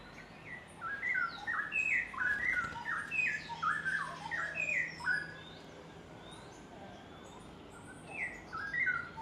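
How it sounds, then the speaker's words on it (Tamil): A chestnut-eared aracari at Bird Paradise in the Mandai Wildlife Reserve, Singapore, gives a run of sharp, repeated squawking calls in quick irregular bursts, fairly close over faint background hum, pausing briefly before a few more calls. "செஸ்னட் ஏர்டு அரகரின்னு சொல்லக்கூடிய இந்த பறவையை நம்ம அந்த இடத்துல பார்க்கலாம்."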